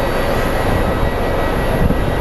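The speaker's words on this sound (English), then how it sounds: "American 765 from Philadelphia is going to be our next plane landing" A steady, loud roar of an airliner engine, American 765 arriving from Philadelphia, landing at Phoenix Sky Harbor airport, holding continuous and close with no talk.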